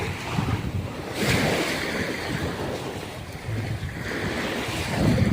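Sea waves wash onto a beach in repeated surges, close and fairly loud, with gusty wind buffeting the microphone.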